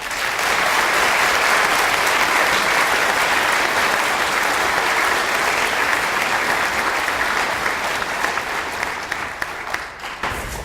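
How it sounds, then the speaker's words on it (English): Dense, steady applause from a large audience honoring police officers and others at an Every 15 Minutes school presentation, sustained loudly for about ten seconds before thinning slightly at the end. "Can we just give the officers and everyone involved a round of applause?"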